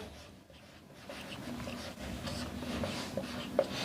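Pen or chalk writing out a chemical kinetics formula, a steady scratchy stroking that grows slightly louder toward the end, with no voices.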